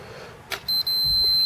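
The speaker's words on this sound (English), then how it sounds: "as soon as we get to the key where those two coincide, we get a beep" A multimeter continuity tester on a Commodore C64 keyboard gives a short, clean electronic beep twice in close succession after a faint click, high and steady over a quiet background.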